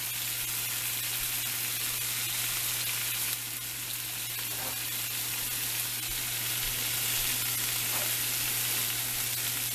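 Beer bratwursts fry in a pan with a steady, close sizzle and hiss lasting several seconds, with occasional faint pops and a brief shift in intensity partway through, no talking.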